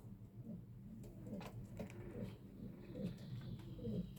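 Racing pigeons in a loft coo steadily in soft, low, rolling murmurs, several birds overlapping continuously at close range with faint background rustle.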